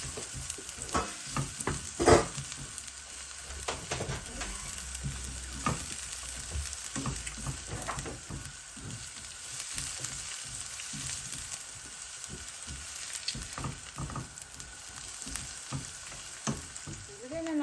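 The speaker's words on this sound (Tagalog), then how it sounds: "Lagyan na rin natin yung ating bawang." Chopped garlic sizzles in a hot pan while being stirred with a utensil for a pork loin steak dish, a continuous close crackle broken by scraping stir strokes.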